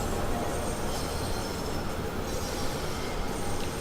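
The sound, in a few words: train running in Train Sim World 2, video game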